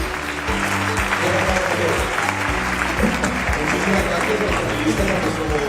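Audience applause for panelists after a journalism panel discussion at the 2017 Bogotá book fair, a sustained wash of many hands clapping at once, loud and steady throughout.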